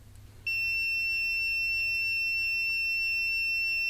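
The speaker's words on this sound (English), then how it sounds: "mine beeps whenever it's making a circuit here" A steady, high-pitched multimeter continuity beep while testing a refrigerator thermostat switches on abruptly and holds continuously, loud and close, over faint background hum.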